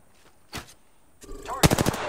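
Gunfire in the Apex Legends video game: a single sharp shot, a pause, then a quick burst of several rapid shots close by, with faint game sounds between.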